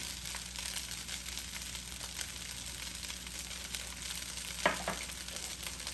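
Garlic fried rice sizzles and fries steadily in a pan, a continuous close crackle with occasional stirring scrapes and one sharper clatter near the end, no talking.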